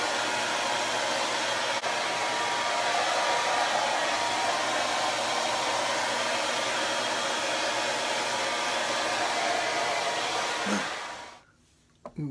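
A hair dryer blows continuously at close range while drying freshly dyed hair, a steady loud whoosh that cuts off near the end.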